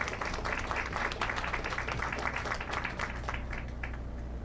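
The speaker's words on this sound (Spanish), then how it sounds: "Un aplauso, por favor." Steady applause from an audience for a student being honored at a panel event, a dense, continuous wash of many hands clapping at moderate level throughout.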